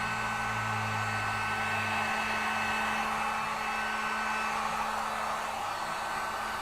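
Hair dryer blowing hot air over freshly applied DIY paint on a cabinet during a makeover, a steady loud whir with a constant motor hum that holds evenly throughout.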